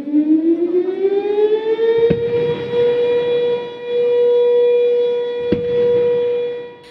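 Civil defense siren sounding at an Indonesian Independence Day ceremony marking the 79th anniversary, a loud sustained wail that rises in pitch over the first two seconds, then holds a steady tone, with two sharp bangs cutting through.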